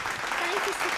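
An audience at a school singing contest breaks into steady, continuous applause, with a faint voice briefly audible beneath the clapping.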